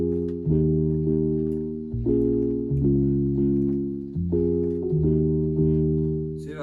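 Chord progression for an Afroswing instrumental, played as smooth sustained synth or keyboard chords that change every second or so in a steady, looping pattern, clear and alone.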